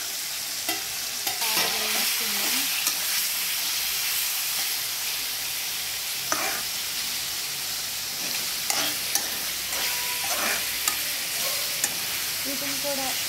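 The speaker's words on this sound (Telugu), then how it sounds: "ఇందులో ముందుగా పెట్టుకున్న చిక్కుడుకాయలు వేసుకుందాం." Broad beans fry in hot oil in a pan, giving a continuous loud hiss and sizzle with occasional clinks and scrapes of a utensil stirring, close up.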